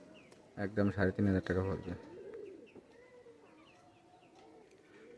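Pakistani high-flyer pigeons coo softly in a loft, low burbling calls running faintly under and after someone speaking nearby.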